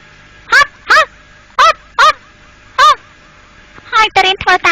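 A cartoon voice imitates a dog barking: five evenly spaced, honking bark-like calls, then a quicker burst of several more, loud and close.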